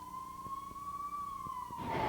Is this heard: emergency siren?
yes